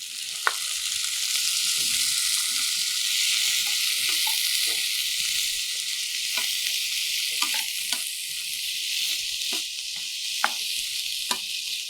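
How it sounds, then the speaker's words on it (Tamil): Tomatoes sautéing in a pan with ginger for tulsi chutney give off a bright, even sizzle that holds steady, with occasional light taps and scrapes of stirring, close by and without speech. "ஒரு 2 நிமிஷம் கொஞ்சம் இந்த தக்காளி சுருங்குற அளவுக்கு நம்ம வதக்கிக்கலாம்"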